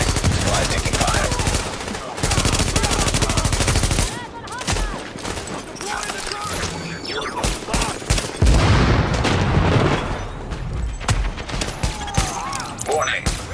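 Dense, sustained automatic gunfire from The Division video game in free roam, rapid overlapping bursts and shots filling the whole stretch, close and loud, with a few heavier booms.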